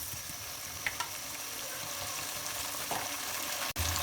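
Chicken sautéing with spices in a hot pan, a steady, close frying hiss running throughout, with occasional light stirring scrapes and a brief dip near the end.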